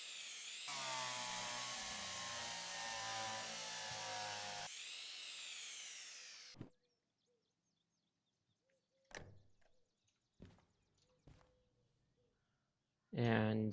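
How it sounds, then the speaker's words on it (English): A power drill whirs steadily for about six seconds in the Derail Valley train game, with a harmonic motor tone, then cuts off; sparse clicks and knocks follow, and a short burst returns at the end. "Drill."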